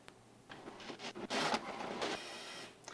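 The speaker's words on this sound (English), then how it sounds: "And all the pages that are printing out have these horizontal lines in it" An old desktop printer that is printing pages with horizontal-line defects gives a mechanical whirring and scraping feed, with a swelling paper rush in the middle, close but quiet, with no voices.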